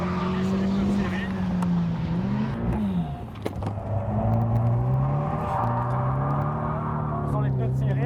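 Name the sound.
car drifting with smoking stock tyres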